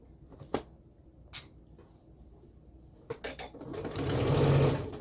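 A sewing machine stitches a side seam on a culottes or skirt project, with short separate bursts early on, then a longer, louder continuous run near the end.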